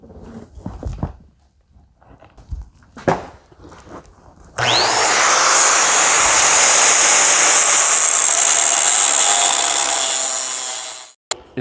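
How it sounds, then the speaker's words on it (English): An angle grinder cuts a score line into a 1/8 inch steel bracket for a gooseneck trailer hitch on a Chevy pickup. It spins up sharply and holds a loud, steady, high whine for about seven seconds after a few brief handling knocks. "what I'm doing is just taking the angle grinder and cutting a score line"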